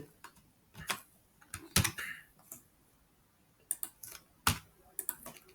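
Code being typed on a computer keyboard, irregular bursts of close, crisp key clicks separated by short pauses, with a quiet background.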